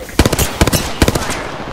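Close gunfire in Apex Legends rattles out in three quick automatic bursts, each a tight cluster of loud sharp shots separated by short pauses.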